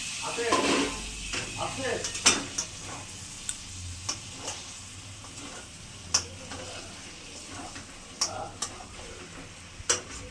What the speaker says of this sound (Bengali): এবার 4টে কাঁচা লঙ্কা দিয়ে দিলাম আর ভাজা পটলগুলো দিয়ে দিলাম